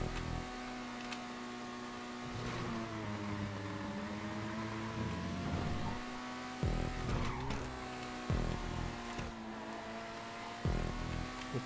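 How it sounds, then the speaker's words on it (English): Racing car engines in GTA 5 Online stunt races drone and rev continuously, with pitch rising and falling and tires skidding, punctuated by a few louder revving bursts from nearby cars. "I'm hearing engines."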